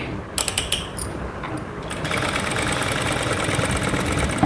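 A sewing machine stitching a long seam, with a few separate clicks and short bursts before settling into a steady, close mechanical whirr with no talk.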